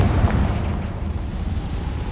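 A Confringo blasting spell goes off in the Hogwarts Legacy video game, a loud roaring explosion whose heavy rumble fills about two seconds and fades only slightly, with no voices.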